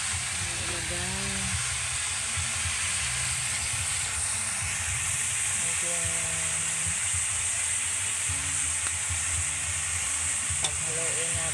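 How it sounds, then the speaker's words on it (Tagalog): Food stirred in a frying pan keeps a steady, close sizzle going, with scraping stir strokes and faint voices in the background. "paghaluin natin ulit."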